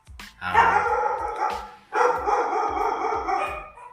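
Dogs bark repeatedly and loudly nearby in two dense bursts with a short gap between them, the barks overlapping into an excited chorus.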